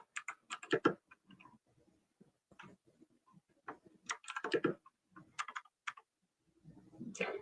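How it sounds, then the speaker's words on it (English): Keys on a keyboard clatter in quick irregular bursts of clicks, fairly close but quiet, with short pauses between runs of typing. "When you go from typing on your phone to typing over on Discord and it's a completely different keyboard"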